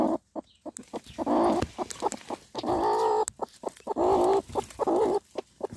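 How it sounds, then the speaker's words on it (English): A hen sitting on eggs with newly hatched chicks clucks in close, repeated bursts, her low, throaty calls rising and falling with brief gaps between them. "And I look in here, and what do I see? A chickie."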